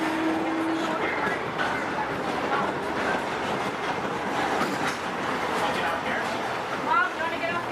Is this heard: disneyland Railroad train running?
yes